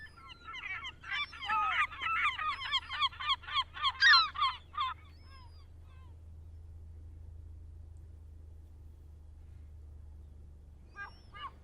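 A flurry of rapid honking bird calls over a low rumble, fading out after several seconds, then a brief burst of calls returns at the end.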